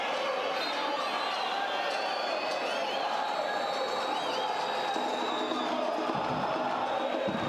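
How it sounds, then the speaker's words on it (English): A stadium crowd at a football match between LD Alajuelense and Alianza FC gives a continuous distant roar with scattered applause and whistles, under a commentator's voice. "crowd applauds every pass right now"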